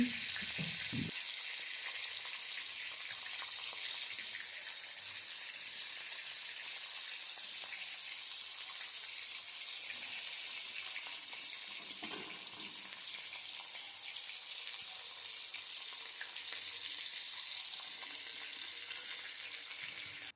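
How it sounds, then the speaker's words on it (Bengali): Bhetki fish bones fry in hot mustard oil for a Bengali kanta chorchori, giving a steady bright sizzle that runs unbroken throughout, with a brief faint knock near the start and no talking. "তেলটা এবার ভালো মতো গরম হয়ে আসলে আমি একে একে মাছের কাঁটাগুলো তেলের মধ্যে ছেড়ে দিচ্ছি।"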